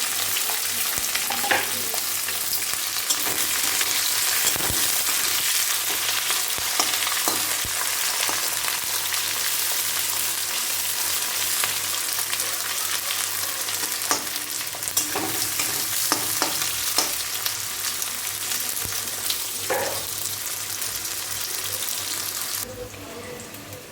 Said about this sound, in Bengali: এবার কড়াইয়ে দিলাম হচ্ছে একটু পেঁয়াজ, কেটে রাখা পেঁয়াজ আর লঙ্কাগুলো একসঙ্গে দিয়ে দিলাম।